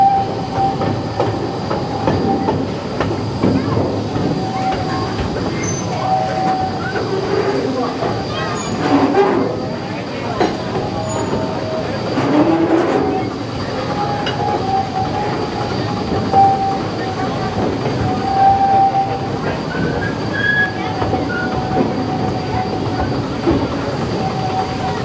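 A narrow gauge Shay steam locomotive at the Hesston Steam Museum works hard hauling a passenger train up a 5.5% grade: continuous rumbling rolling noise with intermittent high wheel squeals and clanks, recorded from a riding car over a long stretch.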